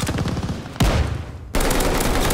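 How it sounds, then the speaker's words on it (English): An automatic shotgun firing in a video game, with dense rapid blasts in close succession, then a sharp loud report and a dip, then another burst of heavy continuous fire. "All I hear is this one guy with his auto shotty, and he's just letting it fucking fly"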